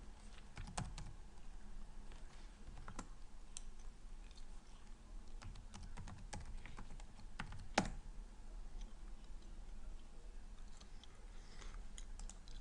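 Typing on a computer keyboard while logging in to an online account, with irregular quiet key taps and occasional sharper clicks over a soft background, no voices.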